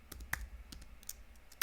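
Keystrokes on a computer keyboard as a cd command is typed into a terminal window, a handful of sharp, separate clicks spaced irregularly over a quiet background, the loudest near the start and the very end.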